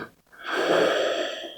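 A single deep breath during a gentle floor yoga flow: a slow, close, soft airy inhale and exhale rising and fading over about a second.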